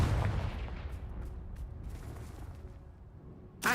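A Confringo blast spell in a video game: a booming, rumbling burst that slowly fades over a few seconds, followed by a second sharp blast at the end.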